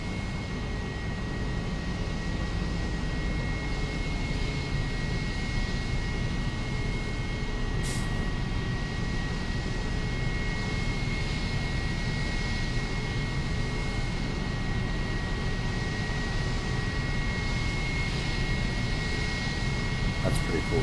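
An airplane passing by in the X-Plane flight simulator, heard from a Boeing 777-300F cockpit at the gate: a steady, loud jet-engine roar and hum holding level throughout, with a brief click partway through.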